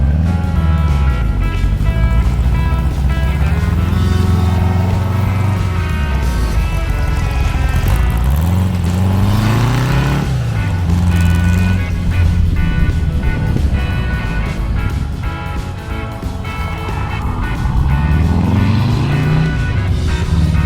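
A 1970 dune buggy pulling away, its engine note rising and falling through repeated revs as it drives off, loud and close.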